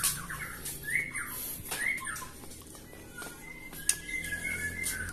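Several magpie robins (murai batu) sing from all around, with bright whistled phrases and chirps at moderate distance over a steady background hiss, and one sharp click partway through.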